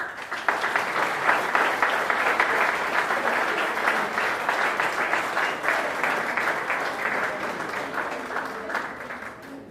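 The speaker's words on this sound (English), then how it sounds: "Give him a round of applause." Steady audience applause fills a hall at an environmental awards ceremony for Blue Flag and Green Coast beach honours, sustained clapping from a large crowd without a break.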